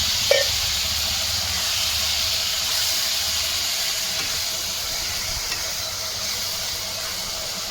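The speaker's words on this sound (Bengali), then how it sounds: "একটু জল দিয়ে দিচ্ছি যাতে মশলাগুলো পুড়ে না যায়।" Water poured into spices frying in a pan, setting off a steady hissing, steamy sizzle after a brief clink at the start, continuous and fairly close, with no talking.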